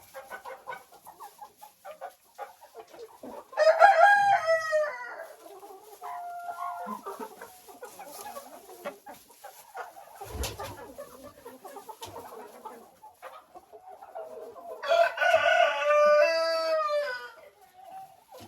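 Hens clucking and a rooster crowing in a farm poultry flock, with two loud crowing bursts standing out over ongoing softer clucks and calls, close by and with no talk.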